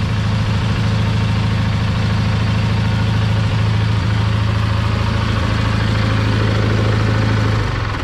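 A Dixie Chopper riding lawn mower idles steadily and close, a constant low engine drone held at the same pitch for the whole span before it cuts off abruptly at the very end.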